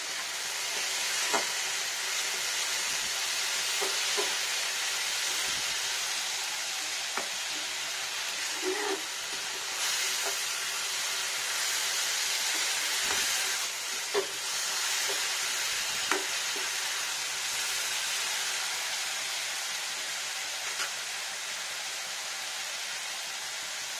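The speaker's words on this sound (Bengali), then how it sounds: "এবার একটু নাড়া দিই।" Arum curry with prawns and turmeric sizzles steadily in a pan while a spoon stirs it, with occasional scraping knocks and clinks against the pan over a continuous frying hiss.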